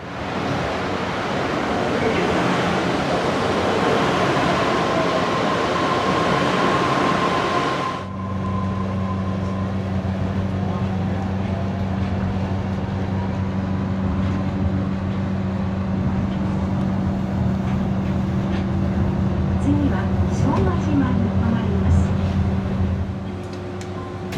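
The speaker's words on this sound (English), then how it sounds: "So I'm gonna take the monorail 1 stop away" A monorail car riding one stop toward Showajima Station near Haneda Airport, first a loud rushing roar of motion, then an abrupt drop to a steadier low hum with faint rattles and clanks inside the carriage.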